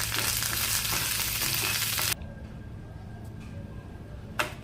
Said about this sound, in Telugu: దీంట్లోకి ఆవాలు వేసుకున్నాను. ఎండుమిరపకాయలు, కరివేపాకు,